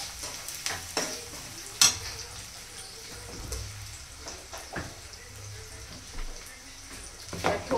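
Chopped onions fry until golden in a pan, giving a low, steady sizzle broken by scattered clicks and scrapes of stirring, close and fairly quiet.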